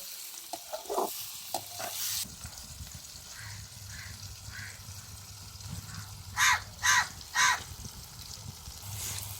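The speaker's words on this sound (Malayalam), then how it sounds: "നമുക്ക് ഈ പഴത്തിനെ നന്നായിട്ടൊന്ന് വാട്ടിയെടുക്കാം" Over-ripe, blackened nendran banana sautéing in a pan with soft stirring scrapes and a low sizzle, while a crow caws three times nearby.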